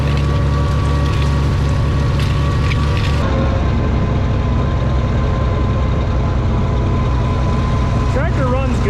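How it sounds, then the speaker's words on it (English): A Farmall 460 tractor engine runs loud and close with a steady mechanical drone, its pitch dropping slightly partway through as the throttle eases. "Tractor runs good and fine when there's no load or anything on it or high throttle situations."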